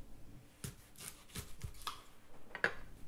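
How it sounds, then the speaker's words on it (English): Knife cutting and trimming a fresh artichoke, a few crisp separate chops and slices spaced apart, close and fairly quiet, with no talking. "Cut through the indentation about two-thirds from the top, exposing the very centre of the artichoke. Trim again if necessary."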